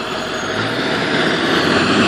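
Trucks passing on the road, a close rushing roar of heavy vehicles that swells steadily louder over a couple of seconds, with no voices.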